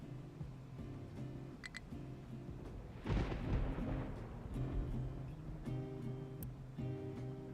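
Thunder rumbles in the video game Captain of Industry, a deep roll that swells suddenly and fades over a few seconds, set against a steady game music bed with no talking.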